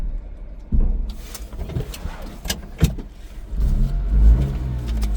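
A small Suzuki dump truck with a rock bed pulls away on a test drive, its mid-pitched engine revving in uneven surges and growing louder toward the end.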